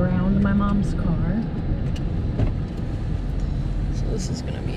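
A Jeep drives slowly, easing around a parked car, its engine a steady low rumble close by while a person talks over it and a dog is along for the ride.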